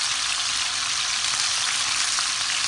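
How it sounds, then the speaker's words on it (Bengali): Onions frying in a pan give a dense, continuous sizzle throughout, loud and close, with no voices. "এভাবে আস্তে আস্তে উল্টিয়ে দেবো। পাঁচ মিনিটের মতো ভেজে নেব।"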